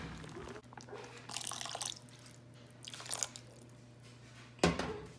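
Water being poured into a pot of Mexican rice while it cooks, with faint splashing and pouring bursts over a low steady hum, ending in a sharper splash.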